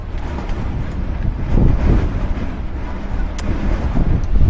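Strong wind buffets the microphone at an outdoor Australian rules football ground during a Robinvale Euston versus Mildura elimination final, a steady loud low rumble with stronger gusts rising and falling throughout.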